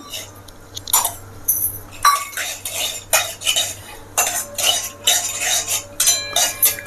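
A spoon stirs cashews frying in melted ghee in a pan on a low flame, making close, irregular metallic clinks and scrapes with a faint sizzle in the pauses.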